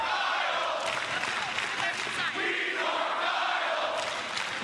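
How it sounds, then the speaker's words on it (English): Packed wrestling arena crowd roars and chants continuously during a televised title match, a dense wall of cheering with voices rising and falling throughout. "The crowd is crazy."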